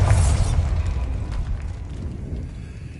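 The Bombarda blast spell goes off in the catacombs of the game Hogwarts Legacy. A loud booming explosion hits at the start, then a rumbling debris tail fades over a few seconds.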